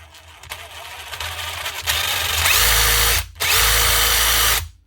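Loud DeWalt power tool with a failing switch and worn gearbox head, on a workshop repair bench: a soft whirr rising into a full high-pitched drill whine that cuts out briefly, then surges again before stopping.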